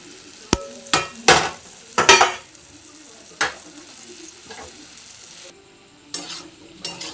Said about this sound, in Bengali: এইভাবে একটু আলু আর মশলা আর সোয়াবিনগুলো একটু নাড়িয়ে নিতে হবে